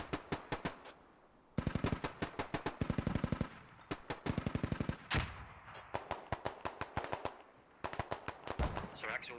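Rapid automatic gunfire crackles in the military shooter game Squad, with long bursts of closely spaced shots interrupted by brief pauses and a sharper blast midway, all loud and close.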